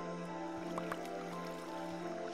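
Quiet squishy, dripping water sounds in the Minecraft video game, a few soft wet plops over a steady humming background.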